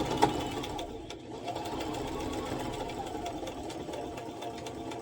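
Sewing machine stitching material, a steady mid-pitched mechanical whir running continuously at close range, with faint voice-like sound mixed in.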